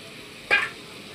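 Small lime fish drop into a hot pan of vegetables, setting off one short, sharp burst of sizzling and frying that quickly fades back to a low background hiss.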